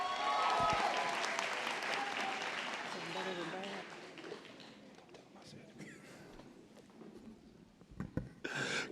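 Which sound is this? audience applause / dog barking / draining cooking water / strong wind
audience applause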